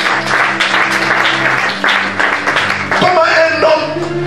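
A church congregation applauds steadily and loudly throughout, with dense clapping, while singing or chanting voices rise over it near the end.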